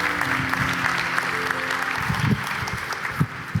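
A church congregation claps together in sustained, steady applause that fills the space, with scattered louder claps and a faint murmur of voices underneath.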